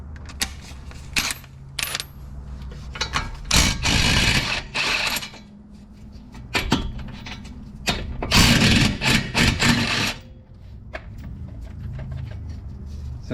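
A socket wrench with a 22mm socket works loose a brake caliper on a Nissan Skyline R34 sedan in a garage, giving several loud bursts of rapid ratcheting clicks separated by quieter pauses with light metallic handling noises.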